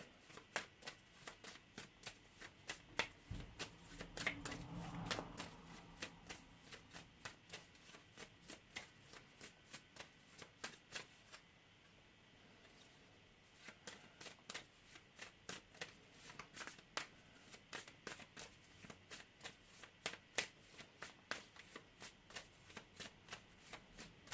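Tarot cards are shuffled over and over, producing faint, rapid close-up riffling clicks in a long continuous run, with one short pause near the middle.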